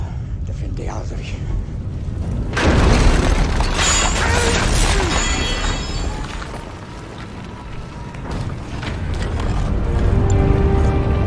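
Mortar explosions in an action film scene, a deep heavy boom erupting and rolling into sustained rumbling debris and clatter, loud and near, with a brief voice under it.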